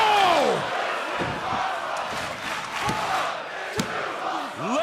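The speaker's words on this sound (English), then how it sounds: "Listen to this crowd." A wrestling crowd roars and cheers at a Cruiserweight Classic tournament match after a flying clothesline, a loud, sustained mass of voices with shouts rising and falling and a sharp slam-like hit near the end.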